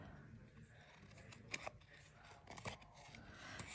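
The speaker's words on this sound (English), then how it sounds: "So with this one, I'm actually going to trim it." Scissors trim a paper tag for a card-making project, making a few close, crisp snipping cuts around the middle of a quiet passage with light handling sounds.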